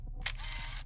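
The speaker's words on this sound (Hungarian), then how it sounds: "De mire jó ez a fényképezőgép?" A camera shutter gives one crisp, close click in the horror game Invisible Fear, set against a low, steady ambient hum.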